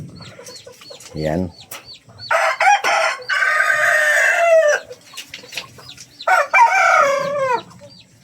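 Chickens clucking and squawking in short bursts close by, with a brief spoken word near the start.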